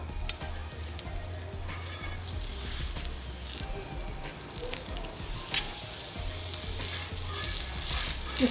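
Aloo paratha frying in a pan, giving a steady close sizzle with scraping stirs and occasional clinks of a utensil; no talking, with a low hum underneath.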